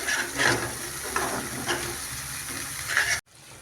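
Prawn karahi masala is stirred in a wok over a steady sizzle, with repeated scraping sweeps of the spoon close up before the sound cuts off abruptly near the end.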